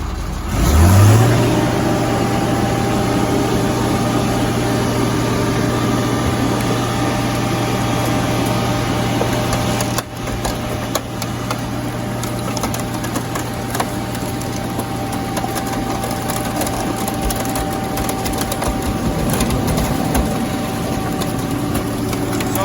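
A hydraulic car crusher runs on air pressure and hydraulic fluid as its controls are worked, giving a loud, continuous engine-like drone with a steady hum and a brief shift partway through.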